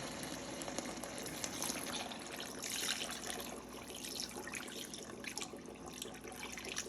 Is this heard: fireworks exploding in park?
no